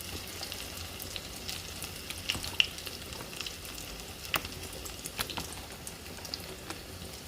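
Pumpkin flower fritters coated in batter frying in a pan, a soft continuous crackling sizzle with scattered sharp pops, quiet and close with no talking.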